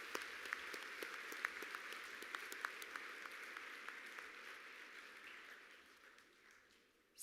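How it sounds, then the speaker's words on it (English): Applause from a convention audience honoring FFA American degree recipients at a Montana state convention, fairly distant and steady, slowly fading out. "Let's give our American degree recipients a round of applause"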